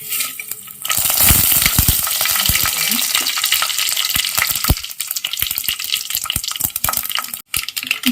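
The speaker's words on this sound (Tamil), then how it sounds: "கடுகு பொறிஞ்சிட்ருக்கு வந்து" Loud, continuous sizzling of mustard seeds popping and spluttering in hot oil, with sharp crackles and occasional stirring scrapes throughout.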